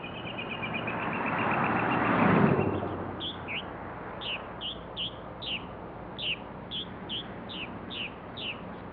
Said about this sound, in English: The red-bellied woodpecker is one of Florida's natives that nests in holes.